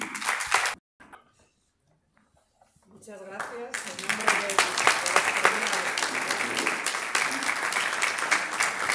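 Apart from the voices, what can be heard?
audience applause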